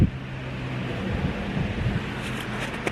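Wind buffets a microphone in a low, rumbling gust, steady and close for a few seconds with no voices, outdoors at a legislature building on a Saturday afternoon.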